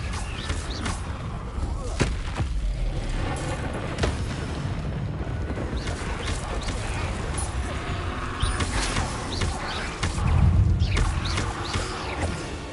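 Blasts from the Confringo fire spell in Hogwarts Legacy rumble through a dense, noisy battle, with several sharp cracks and a heavier low boom near the end, all layered over continuous game clamor.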